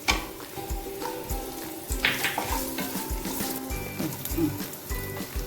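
Crushed nuts and chopped raisins fry and sizzle in a pan for a Malabar elanji filling, with a spoon stirring and scraping in a quick, repeated rhythm, quiet and close.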